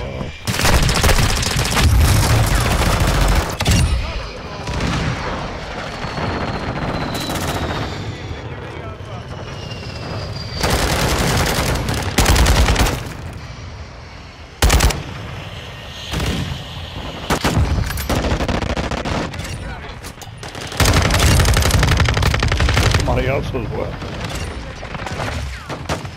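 Gunfire in the video game Call of Duty: Modern Warfare II, with heavy bursts of automatic fire and booming blasts in loud, dense stretches, broken by brief pauses, while a player talks over parts of it.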